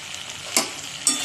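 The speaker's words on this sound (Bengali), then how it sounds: "এবার আর একটু ভাজবো" A curry of green tomato, flat beans and potato fries in a pan under a steady soft sizzle, broken by two quick scraping stirs of a spatula, close and clear.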